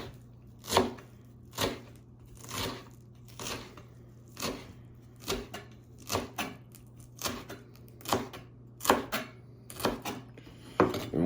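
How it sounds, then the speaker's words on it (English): A knife chops a tightly rolled bundle of leaves on a cutting board, giving about a dozen close, crisp thuds in an uneven rhythm over a low steady hum. "just run your knife through a few times and no big deal"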